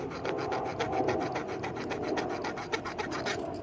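Glass held in a vise being cut to make a knife gives a fast, rhythmic rasping scrape, steady and close, with repeated back-and-forth strokes and no talk.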